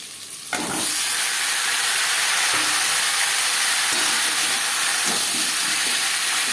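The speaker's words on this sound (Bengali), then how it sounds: "পাঁচ ফোড়ন তেজপাতা ভেজে নেওয়ার পর দিয়ে দেবো আলু" Thinly sliced peeled potatoes dropped into hot oil with five-spice seeds and bay leaf, bursting into a loud, sustained close sizzle with a few soft scrapes and clicks.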